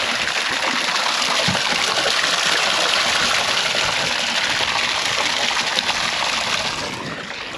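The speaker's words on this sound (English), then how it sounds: "now I've turned on the tap. And I'm just going to fill it about halfway." Hot bore water gushing from a tap into an outdoor bath, a loud, close, steady rushing stream that eases off slightly at the end.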